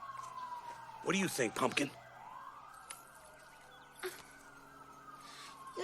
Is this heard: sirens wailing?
yes